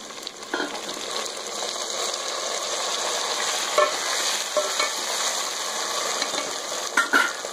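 Browned onions fry with a loud, steady sizzle as tomatoes go into the pan for an okra dish, with a few scattered clinks and scrapes of a spoon stirring nearby.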